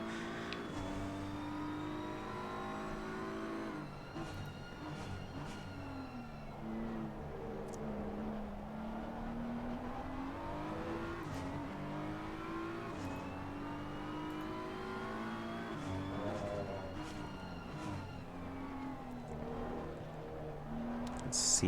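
A Porsche 911 GT3 in a racing video game laps Donington Park, its engine revving up and down through repeated gear shifts in a continuous, moderately loud whine, with no talking over it.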